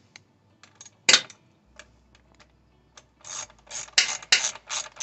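Ratchet wrench turning a number 10 socket while working on a Toro lawn mower carburetor: a few short clicking bursts, then a rapid series of close, crisp ratcheting clicks.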